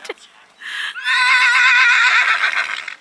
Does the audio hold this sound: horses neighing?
yes